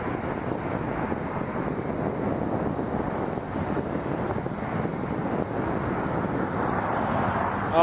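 A plane on the runway at Toronto Pearson Airport at night gives a steady, broad engine roar that holds at an even level for several seconds.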